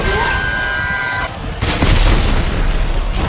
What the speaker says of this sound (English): you just went through that explosion?